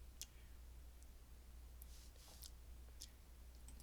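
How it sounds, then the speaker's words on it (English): Faint, sharp mouse clicks while right-clicking a folder on a Windows 11 computer, a few isolated ticks scattered over a quiet background hum. "You just right click on the folder,"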